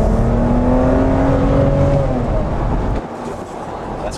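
A BMW 335i convertible with a twin-turbo inline-6 accelerating hard, its engine note loud and climbing steadily in pitch for about three seconds before easing off into a lower, quieter drone.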